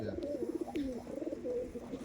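Soft, repeated cooing from a pair of Madrasi tournament pigeons of the dark-headed kalshira type, close by and steady, under a low murmur of room noise.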